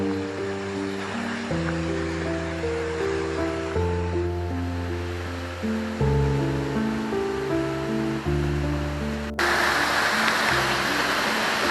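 The Cianà waterfall near Borzone Abbey, a drop of roughly twenty metres, rushes steadily beneath sustained music, its roar swelling much louder and brighter over the final couple of seconds.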